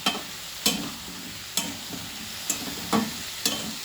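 Potato curry with spices being stirred in a pan, a spatula scraping in periodic strokes about every second over a soft background sizzle, close and moderately quiet.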